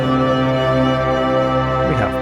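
Cinematic sound from stock Ableton plugins in a single rack, thick sustained synth pads layered with strings over a deep bass, droning continuously with a faint gliding tone near the end.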